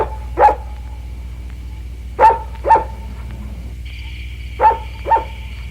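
A dog barks in single sharp woofs, five in all, spaced irregularly at a moderate distance over a steady low hum, with a faint tone joining near the end.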